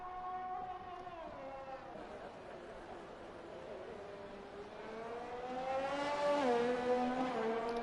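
A race car engine on a flying lap in a racing video game, a steady whining tone that climbs and shifts pitch through the gears. It grows slightly louder toward the end.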